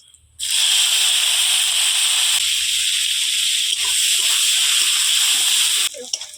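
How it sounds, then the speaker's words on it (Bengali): Chopped onion hits hot oil already seasoned with bay leaf and whole cumin for a fish curry, bursting into a loud, sustained, close sizzle that runs for several seconds, then cuts off. "দেবো পেঁয়াজ কুচি"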